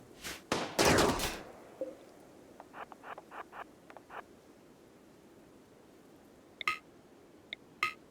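Gunfire in the colony game RimWorld: a cluster of loud shots at the start, then a quick run of quieter, evenly spaced pops, with a few more scattered shots near the end.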